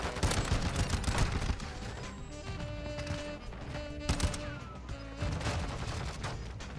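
Rapid gunfire from the fully automatic MX Guardian shotgun in Call of Duty: Modern Warfare II, with dense repeated blasts throughout and tonal game sounds layered underneath.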